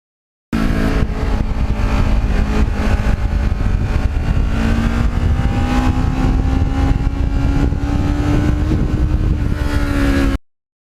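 A restored 13-year-old Kawasaki Ninja motorcycle engine drones steadily while riding, its pitch slowly rising as it accelerates, with wind buffeting throughout and no voices.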